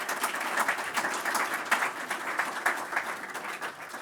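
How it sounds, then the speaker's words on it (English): Forum attendees applaud a panel moderator, a moderate crowd of individual claps audible within the steady patter, fairly close and even. "Let's give her a round of applause."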